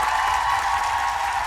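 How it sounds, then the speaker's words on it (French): A cabaret audience breaks into applause, a thick and even wash of many hands clapping at once, loud and sustained without pause. "c'est un tonnerre d'applaudissements qui emplit le cabaret"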